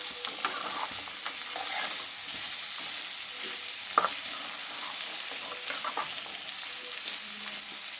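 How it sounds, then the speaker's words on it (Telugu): Carrots sizzle in three spoonfuls of oil with a steady, bright hiss. Soft scraping and stirring clicks come through close by, and no one speaks. "3 చెంచాలు నూనె పోసుకొని క్యారెట్ వేసుకున్నా"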